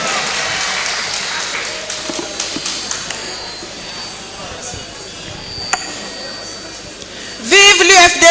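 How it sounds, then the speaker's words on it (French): A crowd at a UFDG party general assembly applauds with steady, dense clapping and scattered sharper claps; near the end a loud voice rises over the noise. "On l'applaudit, s'il vous plaît."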